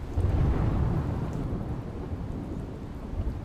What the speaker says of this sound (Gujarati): જામનગરના ધ્રોલ તાલુકામાં ધોધમાર વરસાદ